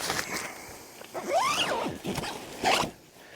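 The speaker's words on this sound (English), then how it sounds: "I can just zip him up" A tent zipper on the Kokoda Track is drawn closed in a few quick rasping pulls, close and fairly loud, with a brief pause between strokes and no talking.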